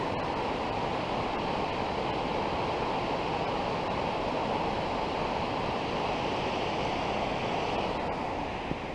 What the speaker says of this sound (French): on peut découvrir quelques jolies cascades. Je vous laisse découvrir celle-ci.